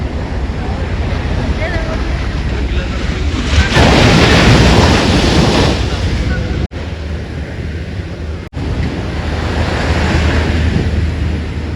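Sea waves surge on the Kannanthura shore under an overcast sky, a loud, continuous roar with heavy wind buffeting the microphone and two brief dropouts.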